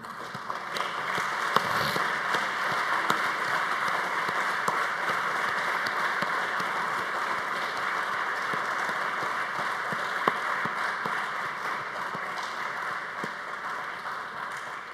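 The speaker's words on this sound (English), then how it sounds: "join me in a lustrous round of applause" Ceremony audience at a building dedication in Trinidad and Tobago gives sustained, even applause, a broad steady wash of many hands clapping from a large crowd with no talking.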